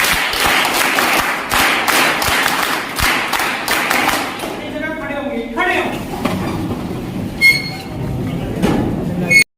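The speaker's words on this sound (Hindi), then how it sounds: "ताली बजाओ।" A group claps together at the closing of a five-day scout and guide camp, a dense burst of hand claps filling the first half before giving way to murmuring voices and scattered noise.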